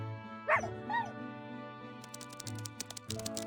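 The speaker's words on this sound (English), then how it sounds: "The little bulldog keeps pushing Pickles, hinting that he should move forward" A small bulldog puppy yaps twice in a scene from the Reverse 1999 video game, the short yips clear over a steady game music bed, followed by a run of quick light ticking clicks.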